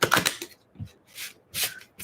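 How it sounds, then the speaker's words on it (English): Tarot cards are shuffled by hand in short bursts, crisp riffling rustles separated by brief pauses, close and fairly clear, with no talking. "we're going to do some deep shuffling here"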